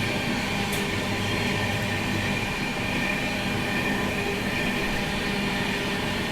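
The Vikramshila Express, running from Anand Vihar to Bhagalpur, rumbles past in a loud, continuous roar of wheels and carriages. The rushing noise holds steady from start to finish, with no voices.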